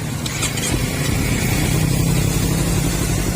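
A 2017 Kawasaki Ninja 300 motorcycle with 13,200 km idles steadily at a used-bike shop beside a road, a loud continuous low engine rumble with some background traffic noise.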